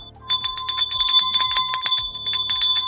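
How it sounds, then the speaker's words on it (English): A bell rings repeatedly in quick bright strokes during a podcast, with a sustained metallic ring and a steady run of hits from start to finish, loud and close with no talking. "Let's ring that bell."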